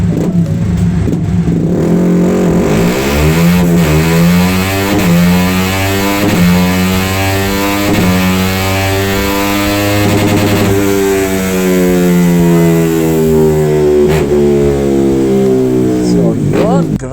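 Remapped Honda Winner X motorcycle engine revs hard and steadily for the whole stretch, its note climbing and falling in repeated loud throttle sweeps, close to the listener with no talk over it.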